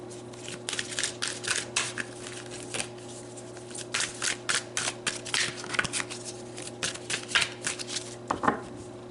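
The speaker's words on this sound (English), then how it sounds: "let's pull some more cards" Tarot cards are shuffled and pulled in a quiet room, giving repeated soft riffling and slapping bursts close up, with no talk.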